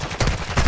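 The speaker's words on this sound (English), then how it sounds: "You are taking effective fire." Rapid bursts of gunfire in the Call of Duty DMZ video game, loud and close, with a dense, sustained rattle that swells near the start and again at the end.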